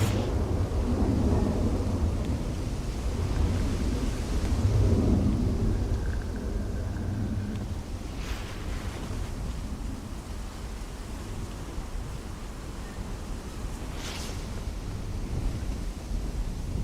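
Gusty wind buffets an outdoor microphone at Dublin Airport, a loud, continuous low rumble that swells and eases over the whole stretch with no speech.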